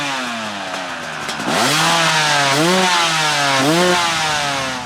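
A stock Yamaha YZ250X two-stroke dirt bike engine revs loudly and close, its buzzing note climbing and falling through several throttle blips over a steady idle, with no talking.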